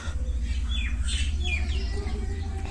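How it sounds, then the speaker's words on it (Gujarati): Several birds give short chirps and squawks against a steady low background hum on a village morning, with a few separate calls spread across the moment. "સરસ પક્ષી હજુ આવી ગયા."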